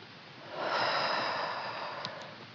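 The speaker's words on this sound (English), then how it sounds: "So breathing in, turning left, turning the right" A single long, audible in-breath through the nose during a yoga exercise, close and breathy, swelling then fading with a slight sniff at the end, with no talk over it.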